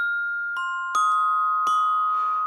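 Mallet-struck bells played in a sixth-grade scale exercise: three or four separate strikes ring out with clear, sustained metallic tones that overlap and hang in the air in a quiet room.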